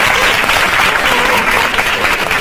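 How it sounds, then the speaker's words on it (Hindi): An audience applauding a young child called Guru, continuous loud crowd clapping that fills the space without pause. "तो अपनी तालियां आप जारी रखिए गुरु के लिए"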